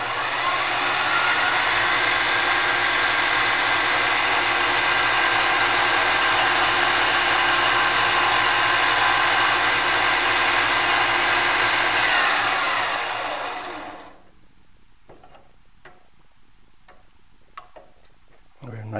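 A power tool, likely a lathe, makes a final fine cut on a wooden cube box part, running as a loud steady broadband whir for about thirteen seconds before winding down into quiet with a few faint ticks and clicks.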